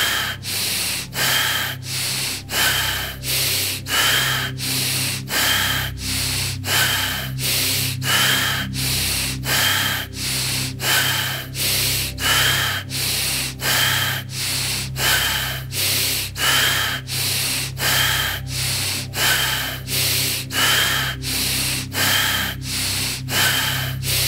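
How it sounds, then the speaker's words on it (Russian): Deep, fast rhythmic breathing during a guided meditation, with sharp forceful inhales and exhales repeating evenly, roughly one per second, close up and unbroken for the whole stretch. "Continue to breathe. Deep and fast."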